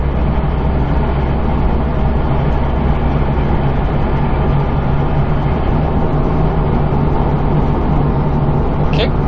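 A Subaru WRX STI VAB fitted with a homemade intercooler water spray cruises with the throttle almost fully off, giving a constant loud rumble of engine and road noise inside the car while a person talks.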